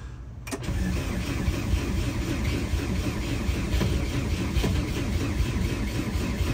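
VW Vanagon Doka truck engine cranking and catching, then idling in neutral with a steady, close, rough mid-pitched drone that continues unbroken.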